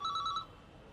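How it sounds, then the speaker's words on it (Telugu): Telephone ringing indoors, a short burst of rapid electronic trilling pulses that stops abruptly after about half a second, with quiet room tone afterward. "ఫోన్ తీయవేరా."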